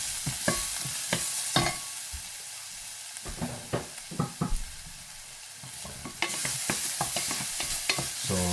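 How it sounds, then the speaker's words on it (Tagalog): Garlic sautéing in a pan for ampalaya guisado (bitter melon with egg), with a steady frying sizzle broken by repeated scraping and stirring strokes of a utensil, close and fairly loud with no talking. "Sautein muna natin yung garlic."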